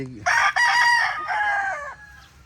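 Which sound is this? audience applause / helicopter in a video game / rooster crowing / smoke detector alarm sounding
rooster crowing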